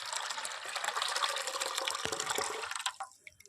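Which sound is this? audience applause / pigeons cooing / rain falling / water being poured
water being poured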